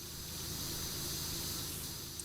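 In the PowerWash Simulator video game, a pressure washer sprays curtains with a constant, steady hiss of water jet that stays even and moderately loud throughout, with no talk.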